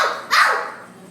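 A child imitates a real dog barking, giving one short bark-like yelp with a sharp onset that fades quickly, close and fairly loud.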